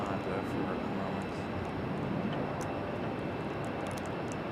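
Embraer E175 airliner at Raleigh-Durham International Airport; a broad, steady jet roar at moderate distance, constant and unbroken, with faint higher clicks over it.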